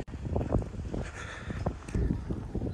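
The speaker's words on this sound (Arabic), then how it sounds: "ها هو كاين شويه الريح هنايا" Wind blowing by a lake near Ouarzazate, Morocco, a steady close buffeting rush with gusty low rumbles on the microphone throughout.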